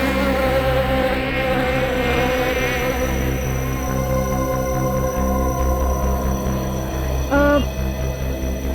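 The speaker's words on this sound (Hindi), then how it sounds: "भिनभिनाने की, मक्खी के भिनभिनाने की" A housefly's buzz drones steadily through a quiet indoor scene in a crime drama, with a constant tonal hum that swells briefly near the end.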